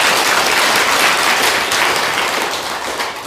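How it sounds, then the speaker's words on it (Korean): A congregation applauds at a Buddhist temple during a spring-opening dharma service, producing steady, dense clapping that stays close and full for the whole stretch before easing slightly at the end, with no talk over it. "그래서 이분들도 큰 박수 한번 부탁드리겠습니다."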